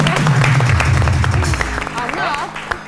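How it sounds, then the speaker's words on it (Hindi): Audience applause at a TV Eid special, a loud burst of clapping under music and low tones, with crowd noise and some voices mixed in, fading slightly toward the end. "नानी के लिए तो तालियां होनी चाहिए।"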